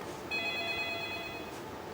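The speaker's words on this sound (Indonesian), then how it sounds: "ada telepon lagi dok" A telephone rings once with an incoming call, a faint electronic trill about a second long over quiet room noise.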